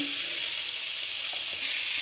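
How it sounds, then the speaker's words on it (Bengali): Long flat beans frying on a hot tawa give off a steady, close, hissing sizzle with no break. "লম্বা লম্বা সিমগুলো তাওয়াতে ভেজে নিব"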